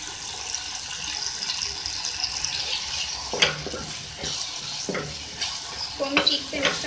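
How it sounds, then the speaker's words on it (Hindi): Ginger garlic paste fries in a pan, a steady hiss and sizzle underneath occasional scraping knocks from stirring, close and continuous. "अदरक लहसुन का जो पेस्ट है इसको डाल के आप ठीक तरीके से इसको भुनें"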